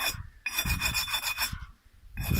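A brick being ground and filed by hand to shape it for a masonry stove, with harsh rasping strokes heard up close in two long passes separated by a short pause.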